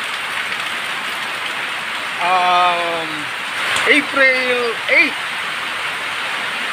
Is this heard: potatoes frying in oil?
no